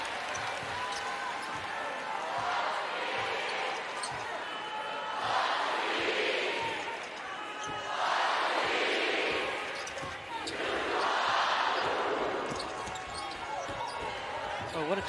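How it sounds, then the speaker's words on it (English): Loud sellout crowd roaring at a UConn vs. Baylor NCAA second-round men's basketball game, the din swelling in repeated waves with a commentator talking over it and ball bounces faintly underneath. "Sellout crowd tonight. Making a lot of noise."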